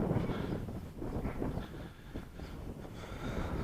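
Strong wind gusts buffet the microphone in a flowering apricot orchard, rising and falling in rumbling bursts throughout, with no speech.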